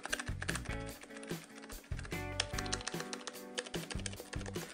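Rapid, hard typing on a Logitech MK235 keyboard, keys clacking loudly in quick irregular bursts with no pauses, close up and alone.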